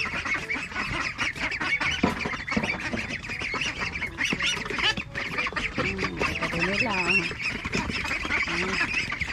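A flock of Peking ducks quacks loudly and continuously, close by and overlapping in dense, honking calls while being fed vegetables, with faint voices mixed in.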